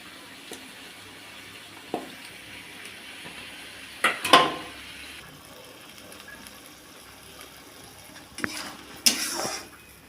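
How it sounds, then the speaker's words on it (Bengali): Cow tripe stir-fried in a pan: a low background sizzle broken by a few scraping, clinking stirs of a spatula against the metal pan. "ভুঁড়িটা কষানো হয়ে গেছে"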